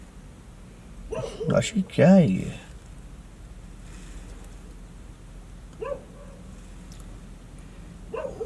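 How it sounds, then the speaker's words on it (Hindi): Dogs bark outside at night near a haunted, unfinished building: a quick burst of several sharp yelping barks, then a lone fainter bark later, while a person talks nearby. "कुत्ते ही भौंक रहे बस"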